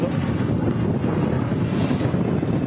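An airliner approaches Manchester Airport during Storm Agnes, a loud steady engine roar mixed with wind buffeting the microphone, lasting a few seconds without speech.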